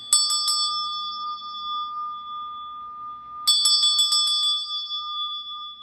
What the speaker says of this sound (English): I'll ring the bell for you all.